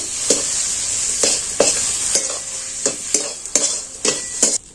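A spoon scrapes and stirs a sizzling bottle gourd leaf roll filling with sugar in a pan, in repeated close, irregular strokes over a constant frying hiss.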